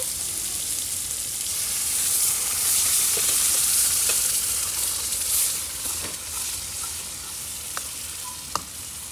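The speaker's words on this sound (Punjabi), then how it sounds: "ਸਾਗ ਨੂੰ ਸਪੈਸ਼ਲ ਤੜਕਾ ਲੱਗ ਚੁੱਕਿਆ ਆ" Loud, continuous sizzling hiss of hot tempering oil poured onto cooked saag (mustard greens), with occasional crackles and pops scattered through it.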